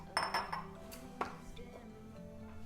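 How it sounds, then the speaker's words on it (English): Eggs are whisked in a bowl for banana bread batter, giving a few quick, faint clinks and taps of the whisk against the bowl, close by in a quiet kitchen. "Give them a little bit of a whisk"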